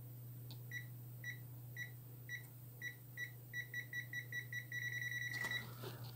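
A non-contact current tester beeps as it is brought near a live cable, a charging phone's cable, with a run of separate high electronic beeps that speeds into a rapid, almost continuous trill near the end over a steady low hum.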